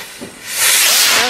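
A 40-gram Dutch rocket arrow from Wolf fireworks launches with a loud, rushing hiss that swells about halfway through and holds steady to the end, heard close and without talk.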